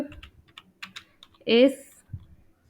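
Computer keyboard keys tapped while HTML code is typed, a few scattered light clicks followed by a short louder burst, with a voice speaking quietly around them.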